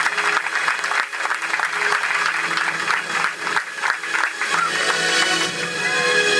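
Congregation applauding during a Spanish-language evangelical church service, a steady, dense wash of clapping that fills the room throughout, with possible voices mixed in underneath.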